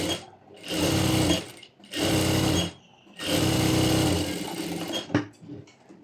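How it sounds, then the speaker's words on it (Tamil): Bursts of a sewing machine joining lining to main fabric along an edge, three long runs of rapid mechanical stitching at close range, separated by short pauses, with a few small clicks at the end. "இப்போது இந்த எட்ஜில் ஸ்டிச் போட்டு இந்த லைனிங்கும் மெயின் ஃபேப்ரிக்கையும் ஜாயின் பண்ணி எடுத்துக்கிறேன்."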